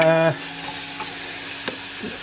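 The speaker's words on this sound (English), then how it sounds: "let's just sweat these onions down" Onions sweating in a hot pan give a steady, close sizzle with a brief stir partway through, for a lamb pizza topping.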